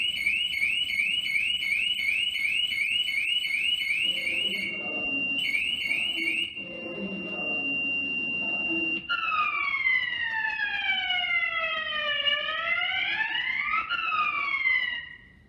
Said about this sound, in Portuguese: Desde os alarmes de incêndio, os sprinklers ou chuveiros automáticos